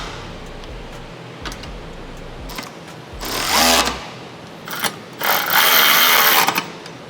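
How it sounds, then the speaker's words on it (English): Bolts on the side brackets of a roof rack on a 2024 Toyota Land Cruiser are tightened, heard as two loud bursts of fast ratcheting clicks from close by, separated by quieter handling noise. "the next step is going to be tightening the side bracket bolts."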